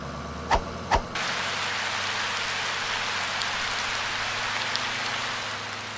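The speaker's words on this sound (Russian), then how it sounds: "В дождь" Steady rain falls on a surface with a dense, even hiss after two brief knocks at the start, continuing without pause.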